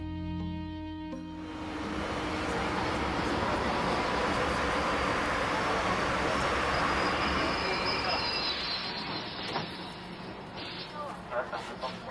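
A new Beijing subway train from the early 1970s runs along the tracks with a broad, steady rumble and rolling wheel noise that swells and holds, with faint clicks toward the end.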